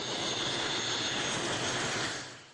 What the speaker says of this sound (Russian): Пожарно-спасательный вертолет Госкомитета Республики по чрезвычайным ситуациям готовится к взлету